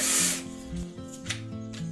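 A power tool whirs in short, uneven bursts with a changing pitch, like a drill working through material at close range.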